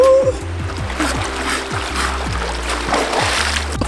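Someone splashes about in cold water while taking a dip in Lake Eildon, Victoria, Australia, with steady nearby splashing and trickling and a faint voice at the start.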